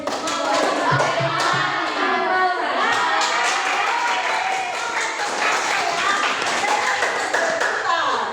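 An indoor group applauds the Melati team, steady dense clapping from many hands throughout, with voices mixed in under the applause.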